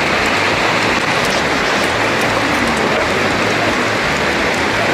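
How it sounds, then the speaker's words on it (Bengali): Steady, dense rain pattering under a blue sky during a sunshine shower, a constant close wash of drops with no gaps. "ভালোই বৃষ্টি হচ্ছে ঝিরঝির করে।"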